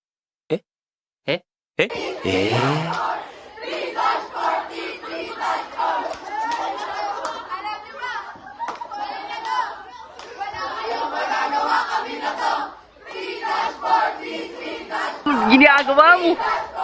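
A crowd at a socialization night shouts and cheers excitedly in loud, rising waves of overlapping voices, preceded by two sharp claps or knocks at the start.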